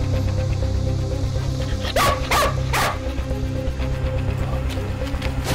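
Neglected, sick dogs kept outdoors in summer heat bark in a few sharp, close yelps around the middle, set against a steady low background hum.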